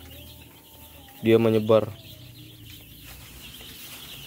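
Seven-day-old male broiler chicks peep in a brooder house, a brief loud burst of chirping standing out over a steady low hum of background chatter from the flock, with a person talking quietly.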